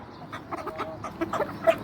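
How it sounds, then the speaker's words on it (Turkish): Ornamental fancy-breed chickens cluck softly in short, scattered calls at a moderate distance, with a faint background hum and no talking. "nar çiçeği kafedeki cins tavuklarımız bunlar"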